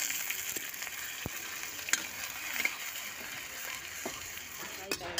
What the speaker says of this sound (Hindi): ये डाल दिया मैंने जीरा, हींग, और ये प्याज और हरी मिर्च। तो प्याज को थोड़ा सा भूनेंगे।